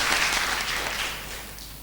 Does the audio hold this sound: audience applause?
yes